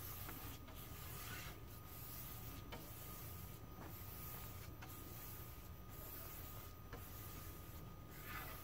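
A paintbrush strokes a second coat of paint along a surface in long, even passes, a soft continuous brushing rasp with faint periodic dips between strokes, quiet and close with no voices.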